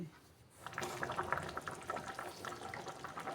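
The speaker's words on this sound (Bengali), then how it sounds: "আর আমি এবার ঝোলটা ফুটে যাচ্ছে ফুটছে" Pabda fish curry gravy boils in a covered pan: a soft, steady bubbling and crackling simmer starts after a brief quiet moment and keeps going, close but low in volume.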